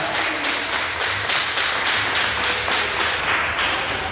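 Steady, dense applause from a church congregation fills the whole stretch, a continuous wash of many hands clapping at even volume.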